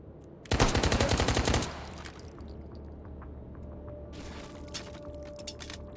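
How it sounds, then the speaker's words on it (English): A short, dense burst of automatic fire from an Auto Makarov pistol in the H3VR virtual reality shooter, loud and rapid for about a second, followed by quieter clinks and handling noises. "Auto Makarov. It is a good pistol."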